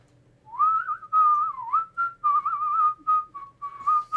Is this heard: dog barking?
no